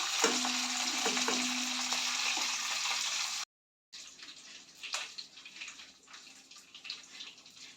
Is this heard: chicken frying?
yes